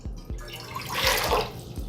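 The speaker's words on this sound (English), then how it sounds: "we're gonna start with 7 cups of water" Water being poured into a pot, 7 cups for Honduran arroz con leche (rice pudding), a close, steady splashing stream that swells in the middle, with soft knocks and drips around it.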